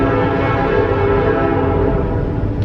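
A train passes close by with a steady, loud rumble and a sustained horn-like tonal drone filling the whole stretch.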